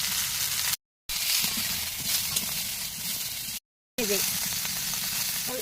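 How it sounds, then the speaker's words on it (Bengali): Potatoes and pumpkin stems sizzle steadily in hot oil in a pan, a continuous close frying hiss broken by two brief silent gaps. "আলু ডাটা ভেজে নেব"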